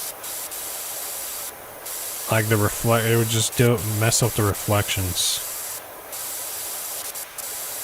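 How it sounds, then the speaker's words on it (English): A pressure washer in the game PowerWash Simulator 2 sprays water in a constant hissing stream, with someone talking over the middle part. "I feel like you would break the scope if you were just spraying water in it like this."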